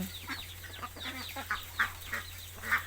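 Free-ranging chickens and ducks pecking at sawtooth coriander, a string of soft clucks and brief squawks at irregular intervals from nearby birds, low in level with a faint background hum.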